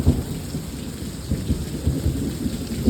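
Steady rain falls during a thunderstorm while low rumbles of thunder roll underneath, a dense continuous wash with no voices.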